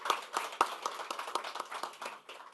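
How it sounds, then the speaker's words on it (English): Audience applause at an artificial intelligence and retail industry conference, a steady patter of many hands clapping at moderate distance, fairly quiet and continuous throughout. "Let us give a very big round of applause to our chairman of the session"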